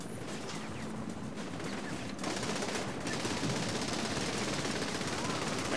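Sustained automatic gunfire from Saints Row: The Third rattles on as a dense, continuous barrage, growing louder partway through, with a voice talking faintly underneath.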